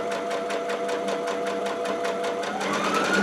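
A Baby Lock Altair sewing machine stitches quilt binding with a steady, fast, even motor whir and rapid needle pulses, close and loud throughout, rising slightly in pitch near the end.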